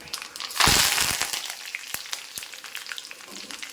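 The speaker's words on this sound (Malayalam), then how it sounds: "നമുക്കിതിലേക്ക് കുറച്ച് കറിവേപ്പില ഇട്ട് കൊടുക്കാം" Curry leaves dropped into hot oil with mustard seeds for a brinjal stir-fry give a sudden loud sizzling burst, which settles into steady crackling and scattered sharp pops close by, with no talk.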